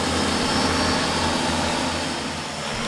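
A vineyard spraying drone flies back to its base on its own, a steady, dense whirring buzz of rotors with a faint hum beneath, continuous and fairly close, no speech.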